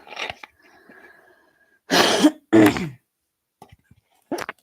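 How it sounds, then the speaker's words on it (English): Two harsh, loud coughs close to the microphone, preceded by a throat clearing, with quiet gaps and small breathy sounds between. "Sorry for coughing in your ear"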